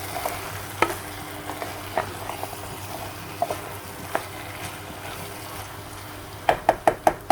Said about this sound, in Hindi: हरी मिर्चें डालेंगे और इसको थोड़ा सा मिक्स कर लेते हैं